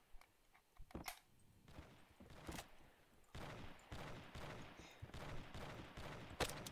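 Repeated rifle shots in the Banana Shooter game, a bolt-action sniper rifle firing sharp, loud cracks spaced a second or so apart, with a dense burst near the end and steady game noise between them.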